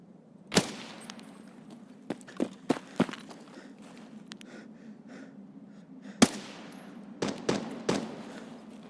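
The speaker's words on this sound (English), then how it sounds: "I think they're shooting at me through the trees." Enemy gunfire in a hardcore PvE shooter game, fired through trees: a handful of sharp, scattered shots and quick bursts over a quiet background, with a few louder cracks standing out.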